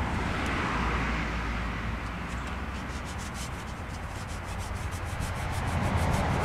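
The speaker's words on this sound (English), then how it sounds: "now I've got to sand it" Hand sanding of a wooden board, a steady dry scratchy rubbing that runs continuously and fairly loud, close by, with no talking.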